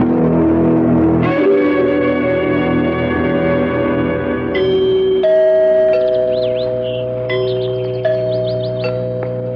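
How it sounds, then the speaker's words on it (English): Resonant tower bell chimes ring out in a sequence of tones, each strike sustaining and overlapping, loud and reverberant with no speech. "Did you hear the chimes? It sounds like the bell in our tower."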